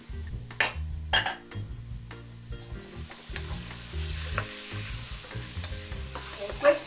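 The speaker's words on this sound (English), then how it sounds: "She seasons everything with salt and stirs it so the mixture fries evenly." Chunks of pork steak seasoned with salt fry loudly in a pan, a close, steady sizzle and crackle punctuated by repeated stirring scrapes of a utensil against the pan.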